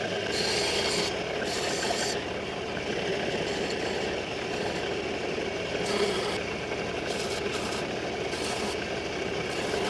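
Sandpaper rubs steadily over the chip breaker of a vintage Goldenberg hand plane, producing a continuous close, loud rasping scrape with slight strokes and pauses in intensity, alone without any voices.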